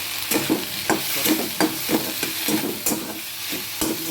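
Ginger paste and tomatoes frying in a pan for arhar dal, with steady sizzling broken by rhythmic spatula scrapes about twice a second, close and clear with no talking.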